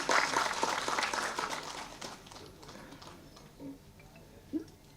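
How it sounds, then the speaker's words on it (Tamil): An audience at a Tamil movie press meet claps, a burst of applause that is strongest at the start and then thins and fades over a few seconds, with a little talk near the end. "நல்லா கைதட்டுங்களா ஒரு தடவை."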